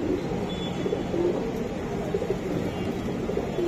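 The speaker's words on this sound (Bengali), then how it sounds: "কবুতরটা আমি দেখাই দিলাম" Pigeons cooing at a pigeon keeper's loft in Lalbagh, Old Dhaka, where down-shape nots, pankhi, chila and giribaz fancy pigeons are kept: soft, repeated low coos over a steady murmur of background noise.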